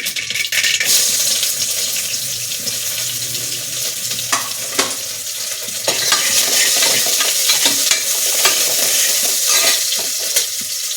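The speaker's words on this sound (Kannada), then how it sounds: "ಸೌಂಡ್ ಬರ್ತಾ ಇದೆಯಲ್ವ, ಪಟಪಟ ಅಂತ ಇದೆ" Mustard seeds splutter in hot oil, then onions hit the pan and fry with a loud, continuous sizzle, with scattered pops and some stirring clatter up close, for a Sankranti festival meal.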